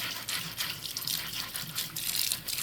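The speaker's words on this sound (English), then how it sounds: "So we're going to go ahead and wash our carrots. I'm going to scrub all that stuff off of it." Tap water runs steadily into a sink while carrots are washed and scrubbed clean, a continuous close splashing rush with no talking.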